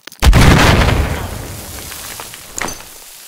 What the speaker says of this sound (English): Fire frag grenade.